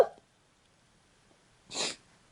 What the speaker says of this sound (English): Ooh, I feel a sneeze coming on.